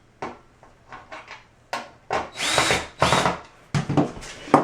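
Power drill driving screws back into a wall drain cover during a bathroom drain install, several short whirring bursts of varying length, close and moderately loud, with brief pauses between them.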